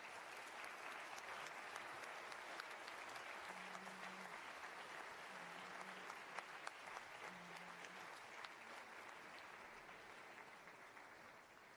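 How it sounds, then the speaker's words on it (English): Audience at an opening ceremony of a U.N. peace and dialogue forum in Portugal applauding as speakers leave the stage, a steady, fairly distant wash of clapping throughout. "Please join us in applauding the distinguished speakers as they leave the"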